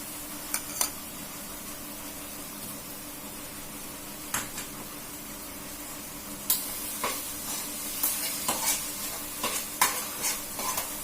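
Spicy pasta in tomato sauce with chili powder is stirred in a pan, giving a soft sizzle broken by clacks and scrapes of a utensil that come faster toward the end.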